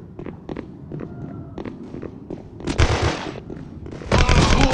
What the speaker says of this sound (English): I can hear the gun sound, so definitely someone is here on that side of the area.